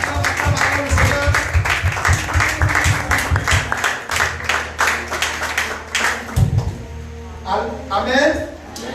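Church congregation clapping and cheering in a steady rhythm, the claps loud and close with a crowd's voices and talk mixed in throughout, the rhythm easing near the middle before the cheering swells again.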